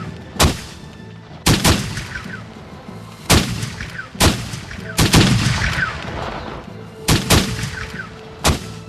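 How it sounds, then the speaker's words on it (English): Guns open fire in a battle near New Orleans, a series of loud booming shots every second or so, each trailing a rumbling echo, with a faint voice underneath. "all of a sudden, the guns open up"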